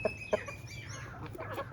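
Chickens cluck a few times in short bursts against a low steady background hum, with calls scattered across the clip at moderate distance.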